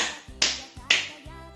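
Two sharp, crisp hand claps in an elementary classroom clapping game, spaced about half a second apart, close and clear with quiet gaps between.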